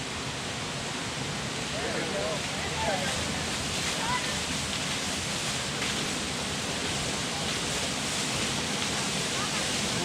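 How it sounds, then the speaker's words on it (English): Water rushing out onto the world's largest overshot water wheel at a historic mill, a steady broadband roar like a waterfall that stays loud and constant throughout, with faint outdoor wind mixed in. "About to see the world's largest overshot water wheel begin to turn. They're letting the water out onto it."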